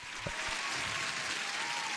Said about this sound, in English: You guys deserve an applause